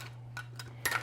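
A pot lid picked up in a kitchen, a few light metallic clinks ending in a sharper clatter, close and brief.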